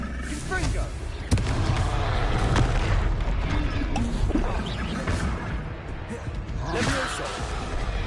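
Fiery Confringo spell blasts go off during combat in Hogwarts Legacy, with booms and crashes over dense, continuous battle noise and game voices.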